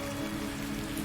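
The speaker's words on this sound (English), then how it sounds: "comforted by rain" Steady rain falls on a surface, a continuous, even patter with a dense hiss and no voices.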